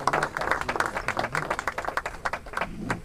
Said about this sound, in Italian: Applausi a lei.